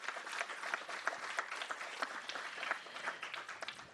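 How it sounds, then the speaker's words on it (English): Audience applauding a panel at the close of a business conference session, a brisk crowd of clapping hands, steady and moderately close, continuing throughout. "Big applause for the panel."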